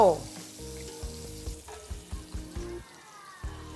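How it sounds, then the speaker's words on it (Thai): Pork ribs drop into a clay pot and sizzle, with an initial splash followed by steady frying crackle and a few stirring knocks, close and moderately loud. "นำซี่โครงนี้ ลงมา ใน หม้อดินของเรา"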